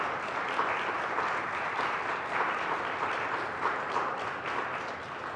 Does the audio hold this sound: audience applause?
yes